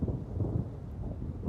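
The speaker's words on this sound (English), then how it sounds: "Oh, we got a storm." Thunder rumbling through a storm in the video game Twisted, a low continuous roll with steady rain-like wash underneath, moderately loud and sustained throughout.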